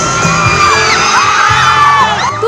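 A crowd at a Kapuso Mall Show in a Cebu mall screams, whoops and cheers, a loud, dense and continuous roar of high-pitched voices.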